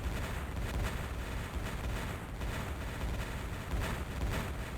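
Rumbling explosions and artillery-like blasts from a battle in the strategy game Imperium Galactica, a dense, continuous barrage of repeated booms at moderate level with no voices.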